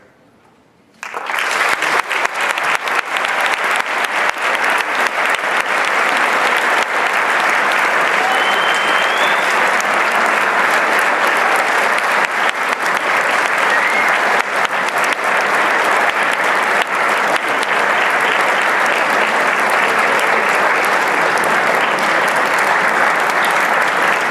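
Audience applause at a high school spring concert, a sudden burst of dense clapping from a large crowd that holds steady and loud for over twenty seconds, with scattered voices mixed in.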